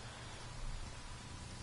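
Steady rain in the open world of Ghost Recon Wildlands, a soft continuous hiss without pauses, heard alone from the game.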